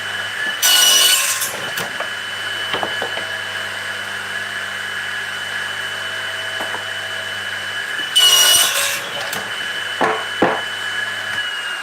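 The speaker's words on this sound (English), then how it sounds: "That's the DeWalt radial arm saw." A DeWalt radial arm saw cuts wood in two loud bursts a few seconds apart, each a harsh screaming rip through the board, over the steady whine of the saw motor running between cuts.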